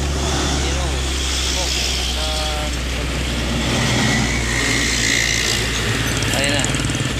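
A convoy of heavily loaded Hino and FAW trailer trucks rumbles along an inter-regional highway. The engine drone is loud and continuous, with a few tonal horn-like notes and voices talking over the traffic.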